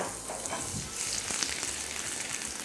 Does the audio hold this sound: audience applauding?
no